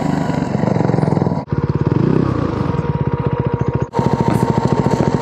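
A motorcycle engine idles and runs on a Sardinian road, a loud, close, rapid chugging pulse that cuts out briefly twice and restarts, with no voices.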